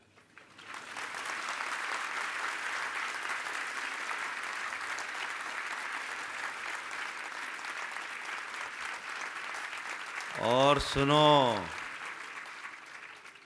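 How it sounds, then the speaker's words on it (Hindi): Audience members at a Jain sermon clap steadily for about ten seconds, a dense even patter, then a voice speaks over the fading applause. "अभी तो तुम जैन हूं यह सुनकर ताली बजा रहे हो"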